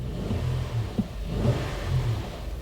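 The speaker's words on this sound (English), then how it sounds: "as you can hear, the engine is running" A Honda Pilot engine with the check engine light on runs steadily at idle, a low continuous rumble with slight surges, close by and alone with no voices.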